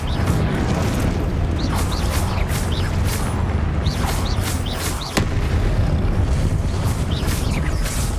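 Confringo blasting curse explosions in Hogwarts Legacy, heavy booming blasts layered over a loud, dense rumble of combat noise, with a sharp crack near the middle.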